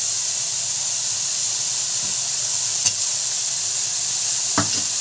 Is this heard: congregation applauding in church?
no